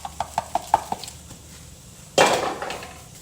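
Fresh basil being chopped on a cutting board: a quick series of light, close knife taps, then a louder burst of scraping and clattering as the leaves are gathered.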